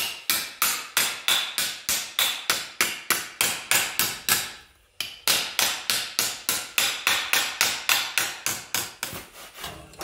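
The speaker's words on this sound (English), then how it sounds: "Take a hammer, just lay it on the edge of it there like that, and start working the edge around." A hammer working the edge of a metal panel, struck in a steady rapid series of sharp ringing blows, close and loud, with one brief pause midway before the blows resume.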